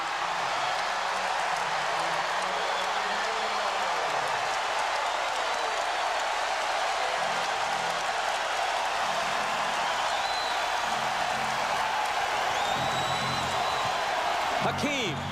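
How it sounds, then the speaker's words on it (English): A basketball arena crowd at a 1999 NBA playoff game between the Lakers and Rockets applauds, whoops and hollers after a Kobe Bryant dunk, a dense, steady roar of cheering that holds for about fifteen seconds with no break. "the applause and the hooping and hollering after Bryant's dunk"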